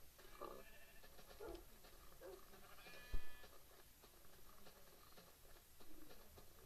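Sheep bleat in the Minecraft video game, a few short, faint bleats spaced out over a quiet, noisy background, with one brief thump partway through.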